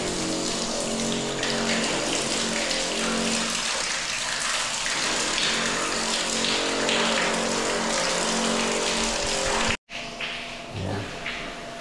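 A handheld shower sprays water hard and steadily up close, a dense hissing spatter that cuts out briefly near the end, then resumes.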